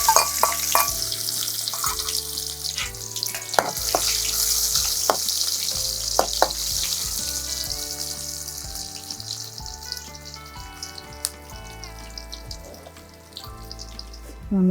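Chopped shallots (small red onions) fry in hot oil, a loud, continuous close sizzle with occasional clinks and stirring scrapes, no talk over it.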